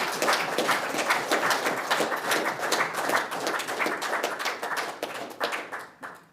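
Audience at a political party press conference breaks into brisk, sustained clapping, loud and close, continuing steadily before thinning out and fading in the final second.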